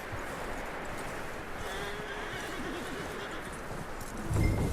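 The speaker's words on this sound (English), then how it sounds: "That looks like a decent horse. You should keep him. Get that horse hitched." A horse in the Western video game Red Dead Redemption 2 neighs and snorts over a steady outdoor ambience, with a louder burst near the end and no talking.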